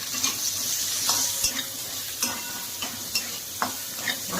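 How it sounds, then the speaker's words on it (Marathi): Chopped onion and garlic frying in a pan over a high gas flame for a hotel-style soya chilli, a steady sizzle broken by repeated scrapes and clacks of a spoon stirring. "फास्ट गॅसवरती थोडा चांगलं फ्राय करून घ्यायचा आहे कांदा आणि हा जो चॉप केलेला लसूण होता तोही टाकायचा आहे"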